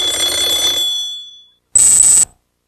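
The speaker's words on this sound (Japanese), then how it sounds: "ベルが鳴ったら受話器を取ってね" An old telephone bell rings loudly in two bursts, a long trill that fades out and then a shorter sharp ring after a brief silence.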